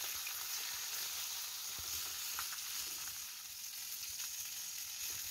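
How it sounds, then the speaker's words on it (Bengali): Fish heads fry in oil in a pan for a Bengali muri ghonto, giving a constant close, bright sizzling hiss with faint crackles throughout. "দেখুন ভালোভাবে মাছের মাথাগুলো ভাজা হয়ে গেছে"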